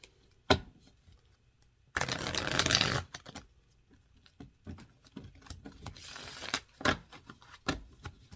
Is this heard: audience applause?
no